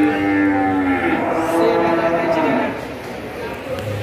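A cow moos loudly and close at an animal market, one long, drawn-out, tonal low that fades after a few seconds, with crowd noise and talk in the background.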